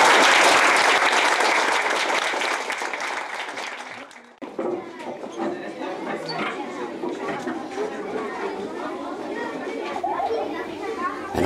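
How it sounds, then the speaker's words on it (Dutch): Schoolchildren burst into loud applause for the mayor in a school setting; the clapping fades after about four seconds, giving way to lively children's chatter and murmuring voices. "En dan verdient zeker een applaus."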